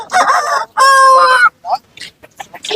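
A rooster crows loudly and close by at a livestock market, two long strained calls in a row, followed by short clucks and brief bursts of nearby chatter.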